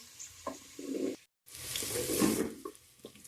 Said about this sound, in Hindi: करेले जो हैं वो अभी अच्छी तरह फ्राई हो चुके हैं,